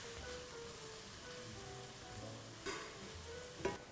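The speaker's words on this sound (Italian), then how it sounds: "La cipolla sta stufando" A quiet, steady sizzle of onion softening in a pan, with a couple of light clinks of a utensil near the end.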